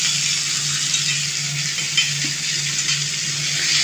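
Onions fry in a pan while being cooked soft for a chicken and potato curry: a continuous, fairly loud sizzling hiss, steady throughout with no voices.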